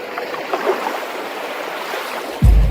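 Pond water laps and churns in soft, continuous waves, ending with a sudden louder splash near the end.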